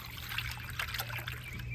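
Water trickles and pours into a parrot's water container, a soft, steady dribble heard close but quiet throughout.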